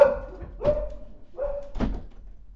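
Dogs bark indoors in the background, two sharp separate barks with short whining tones before each, moderately loud in a quiet room.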